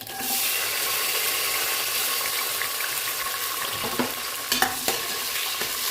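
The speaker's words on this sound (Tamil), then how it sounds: "இது நல்லா டீப்பாக ஃப்ரை ஆகட்டும்." Garlic cloves and small shallots deep-frying in oil in a pan for a black-eyed pea rice dish, giving a steady, close sizzle throughout with a few brief clinks and scrapes near the end.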